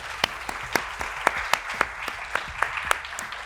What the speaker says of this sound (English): that should draw a huge round of applause